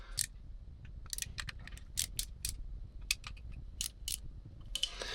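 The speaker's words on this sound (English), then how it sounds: "Alright, got my tiny torque wrench over here." A small torque wrench tightens new bolts on a Yamaha R1 motorcycle, giving a close, quiet series of sharp ratcheting clicks in irregular bursts, with no talking.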